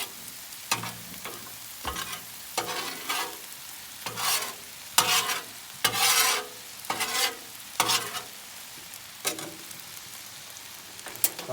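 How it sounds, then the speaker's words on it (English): Buns toast in melted butter on a Blackstone griddle, with repeated bursts of loud spatula scraping and sizzle in an uneven rhythm over a quieter crackling hiss. "So I got some butter going on over here. Toast my buns for just a minute."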